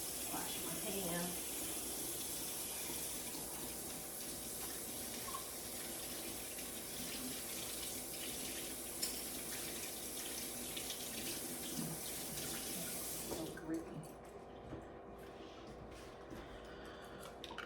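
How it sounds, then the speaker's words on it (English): Water runs steadily from a kitchen faucet as hands are washed at a sink while cooking peach cobbler dumplings. The broadband rush is moderately loud and stops near the end, with faint background voices. "Wash my hands."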